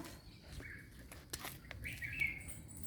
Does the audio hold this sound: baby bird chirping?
yes